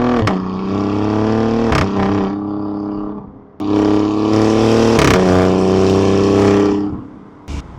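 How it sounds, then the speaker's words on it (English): An Alfa Romeo Giulia Quadrifoglio driving, recorded by an outside mic: loud engine revving up through the gears with sharp shift breaks, strong steady drone between, close and without talking. "All right, so we're going on a quick drive with the Alfa once we washed it."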